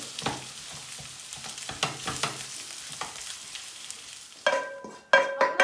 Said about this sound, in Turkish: Burada 3 tane büyük patatesim var. Bu şekilde kavuruyorum.